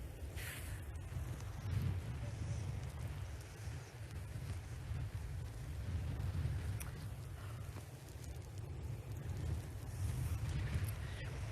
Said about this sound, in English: I think it must be because it's so windy